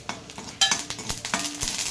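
Mustard seeds and pepper with asafoetida crackle and pop in hot oil in a pan for a medicinal gravy, close and busy, with repeated sharp bursts and scraping stirs.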